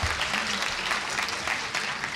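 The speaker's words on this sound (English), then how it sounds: "So give yourselves a round of applause." An audience at a 2018 graduation ceremony gives a round of applause, a continuous patter of clapping in a large room, moderately faint and fairly even throughout.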